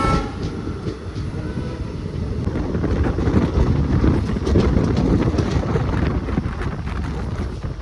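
Steady rumble and clatter of the Nilambur–Palakkad passenger train running, heard from on board with wind noise, loud and continuous throughout and without speech.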